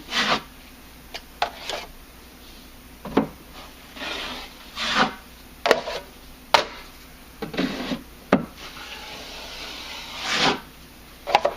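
Drywall joint compound being spread and smoothed over a wall patch with a blade, giving repeated close scraping strokes with short pauses between passes.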